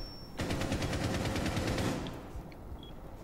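Rapid automatic gunfire rattles in Rainbow Six Siege, a sustained burst of loud shots lasting over a second before tapering off, with a few faint distant pops afterward.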